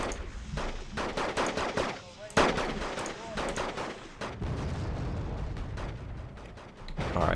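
Artillery and gunfire in the Wargame: Red Dragon Second Korean War campaign: dense bursts of shots and heavy booming impacts, some landing close and loud, over continuous battle noise.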